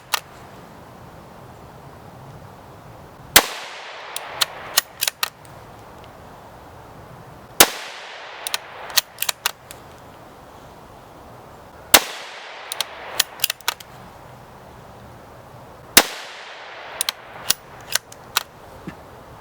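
Savage 93 bolt-action rifle in .22 Win Magnum firing four sharp, loud shots at even intervals outdoors, each followed by a trail of metallic clicks and clacks as the bolt is cycled between shots.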